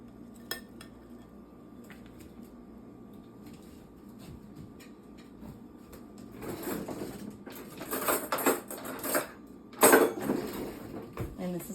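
A knife cutting a small slice of hot cheeseburger pie in a baking dish, with faint scraping at first that grows into louder clinks and scrapes of metal against the dish, close and without talk.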